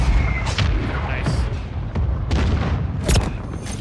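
Mortar strikes in the video game Call of Duty: Modern Warfare III land as a rapid series of loud, booming blasts and sharp cracks, one after another, over a rumbling low roar.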